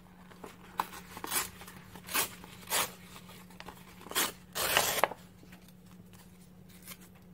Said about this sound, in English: And I want it to be with a torn edges, so I'm just going to tear it like this.